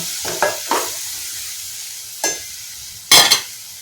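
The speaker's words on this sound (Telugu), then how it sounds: "ఓకేనండి ఇలా మగ్గనిద్దామండి చూడండి ఇందులో కారం ఉప్పు అన్నీ వేసేసాం కదా చేపలు కూడా వేసేసామండి" Fish curry with chili powder and salt cooks in a pan, heard as a few short, separate bursts of sizzling and stirring against a quiet background.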